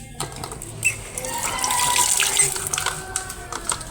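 Tap water runs steadily into a sink while items are washed in a home kitchen, with a continuous hiss, light splashes and a few clinks, close by and moderately loud.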